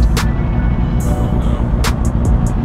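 A 2019 Kawasaki Ninja 400 motorcycle is ridden, with a steady, close engine rumble mixed with wind rush and a few short hissing bursts.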